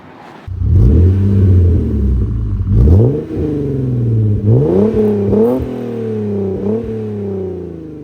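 A Genesis Coupe 3.8 engine with a CNT cat-back exhaust starts up and revs repeatedly, its deep exhaust rumble rising and falling in pitch with each throttle blip, loud and close.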